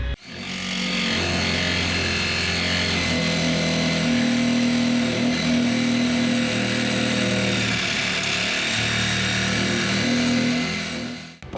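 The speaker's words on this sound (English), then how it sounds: "just take the Sawzall and cut them off" A reciprocating saw runs continuously and loudly up close, its buzzing motor pitch shifting as it bites through metal bolts on a Ford Ranger rear shackle install, with no talking.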